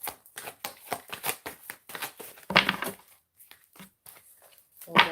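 Tarot cards are shuffled in a quick series of crisp riffling flicks, followed by a few slaps and softer shuffles, close up with quiet pauses.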